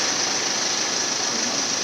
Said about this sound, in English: we've got a BMW 520d running pretty sweetly